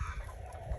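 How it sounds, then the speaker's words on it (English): Backyard egg-laying chickens cluck softly in a low, continuous murmur, close by and fairly quiet, with no talking over them. "my chickens are enjoying their"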